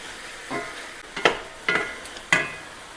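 About four pieces of chopped bacon brown in a pan with olive oil, a soft steady sizzle broken by several stirring scrapes, close and moderately loud, with no talking.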